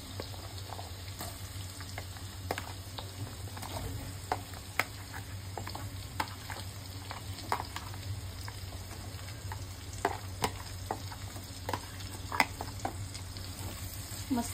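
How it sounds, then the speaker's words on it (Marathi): Carrot and onion sauté in a pan with a steady, close sizzle and frying hiss, broken by occasional scrapes and ticks of stirring, with no talk. "मस्तपैकी सॉटे करून घ्यायचं."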